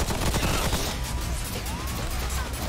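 Turrets firing in the video game Remnant From the Ashes, a dense continuous rattle of rapid gunfire and impacts, loud and steady throughout without a break.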